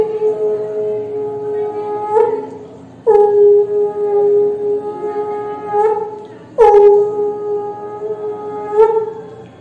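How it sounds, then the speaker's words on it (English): A conch shell blown in several long, steady, horn-like blasts, each breaking off and starting again with a sharp attack, close and fairly loud with no talking. "The first one was the sound of a conch."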